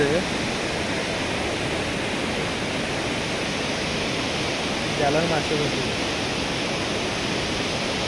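Strong water rushes under an old British-era bridge at Jokadia in Jajpur, a dense continuous roar heard close and loud, with someone talking over it.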